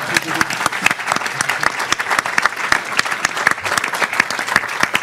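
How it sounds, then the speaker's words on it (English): A conference audience at a forum keynote applauds steadily, dense clapping sustained throughout at close range, with a few voices mixed in. "I can't believe we wouldn't give Roy a round of applause for that."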